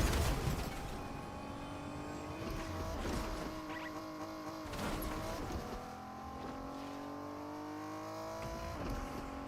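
A car driving in Fortnite: an engine hums steadily and its pitch rises and falls as it revs and shifts, loud throughout with short tire noises, and no talking.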